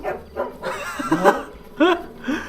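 A dog in the video game GTA 5 gives a few short, close barks and yips with whimpering tones, in quick uneven bursts.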